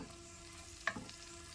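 Chopped garlic and vegetables fry softly in a pan for carrot almond soup, a faint, steady sizzle with one small sharp pop partway through.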